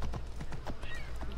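Hooves of a horse in the video game Assassin's Creed Odyssey, a quick, rhythmic clip-clop of repeated strikes over a steady low rumble of game ambience.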